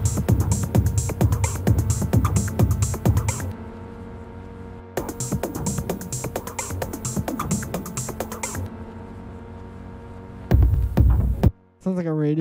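A synthesizer patch with a moody tone plays dense pulsing chords in two long phrases separated by a sustained held section, then a short loud burst and a brief sweeping tail at the end, with no talking.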